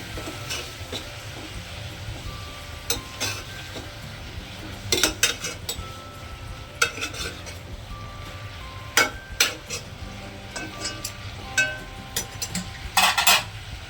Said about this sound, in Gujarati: હવે આ ભાજીને મિક્સ કરી લેવાની